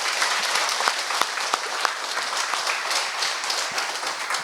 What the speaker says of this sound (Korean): 우리 브룩스 교수 발표를 위해서 큰 박수로 여러분들 부탁드립니다.